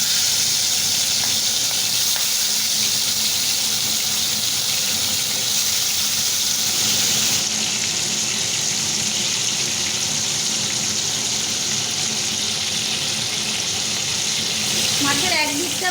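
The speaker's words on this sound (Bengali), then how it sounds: "তেলটা গরম হয়ে গেছে, এখন আমি তেলের ভেতরে মাছগুলো দিয়ে ভেজে নেব।" Giant freshwater prawns fry in hot mustard oil in a wok, giving a loud, continuous sizzle and hiss throughout, with a brief clatter near the end.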